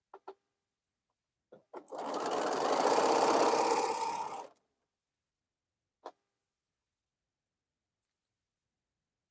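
A sewing machine stitching quilt pieces runs in one steady burst of about three seconds, fairly close and alone, with a few faint clicks before and after.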